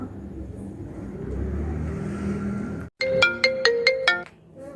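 An electronic phone ringtone chirps in a quick series of bright tonal pulses after a rumbling engine-like background cuts out abruptly, the rings close and clear.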